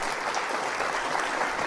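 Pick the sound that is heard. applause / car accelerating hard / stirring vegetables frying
applause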